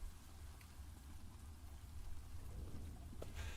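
A storm in the survival video game Stranded Deep, with steady heavy rain hissing and a low rolling thunder rumble beneath, fairly quiet and continuous.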